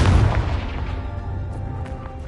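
A Confringo fire spell in Hogwarts Legacy bursts at once with a heavy, booming blast, then decays into a rumbling tail with a few faint crackles.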